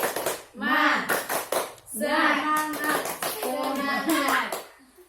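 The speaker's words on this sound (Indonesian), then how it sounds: "Tepuk semangat." A group of children in a classroom chant together in loud, sing-song bursts while striking a rhythmic pattern of sharp hand claps between and under their voices.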